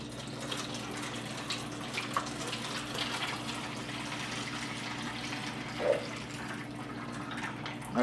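Heated bouillon is poured into a roasting pan while Italian beef is prepped: a faint, steady watery rush runs throughout with a couple of light knocks, and no talking.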